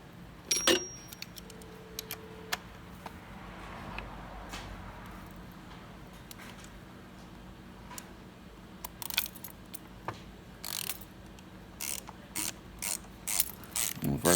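A ratchet wrench clicks as it works on the bolt of a rear view mirror mount, with scattered metallic ratcheting bursts and tool clanks, close and sharp over a quiet background.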